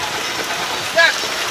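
Steady rain falls on the pitch during a school football match between Fatima College and St. Anthony's College, a loud constant hiss. A brief faint tone and a voice rise just above it midway.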